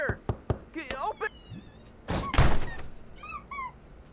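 Several hard thuds strike a door in Trover Saves the Universe, irregular knocks and thumps in quick bursts followed by a heavier slam-like bang, interleaved with an animated cartoonish voice shouting.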